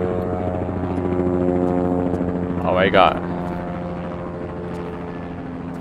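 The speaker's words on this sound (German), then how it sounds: "Ich höre gerade einen Hubschrauber irgendwie." Helicopter in a Tomb Raider custom level set in Nepal, a steady droning rotor hum running throughout at moderate loudness, with a brief voice speaking over it midway.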